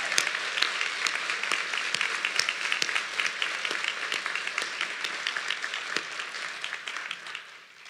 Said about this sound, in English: Please help me give Dr. Mark Schaefer one huge round of applause.